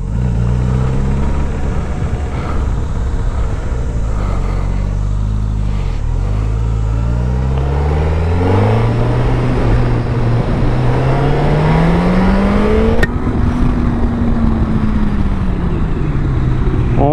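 Engine of a 2024 Suzuki GSX-S 1000GX sport-touring motorcycle while riding, a loud continuous drone rising and falling in pitch as the rider accelerates and shifts, with steady wind noise throughout.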